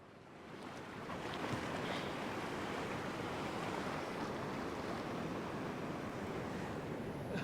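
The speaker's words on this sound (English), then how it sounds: "very difficult conditions, big swells, big waves" Big ocean swells and surf crash onto a beach in rough conditions during beach fishing, a loud, continuous roar with wind noise and no talking.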